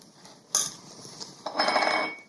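A saucepan is lifted off a switched-off stove and handled while melting chocolate for a brownie, giving a sharp metallic clank followed by a longer stretch of scraping, rattling metal, close and clear with no talk.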